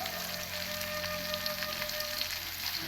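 Galangal, ground spices, bay leaves, lime leaves and lemongrass frying in a pan, a steady close sizzle with faint crackles throughout and no talk.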